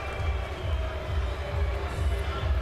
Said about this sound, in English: the genesis of the booing that you're hearing here